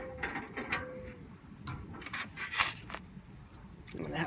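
A ratchet tightens the bull bar mounting bolts on a Ford F150, giving quick bursts of metallic clicking in short, irregular runs, close by and moderately loud.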